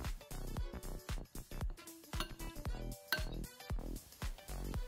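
Salad is tossed with olive oil in a bowl, with bright clinks and scrapes of utensils against the dish in an irregular, close rhythm.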